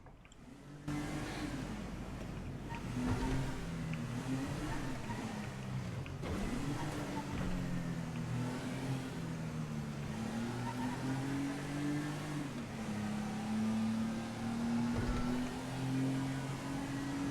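A car engine in the game GTA hums and revs steadily as the vehicle is driven, its droning pitch rising and falling gently throughout, loud and continuous with no speech.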